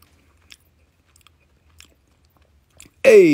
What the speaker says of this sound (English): I'm going to eat a piece of chocolate here and you're going to hear me chewing.